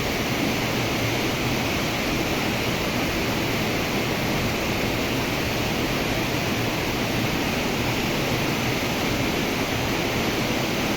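The Konevski waterfall, running high with lots of water, gives a dense, continuous roaring rush that stays loud and even throughout, with no voices.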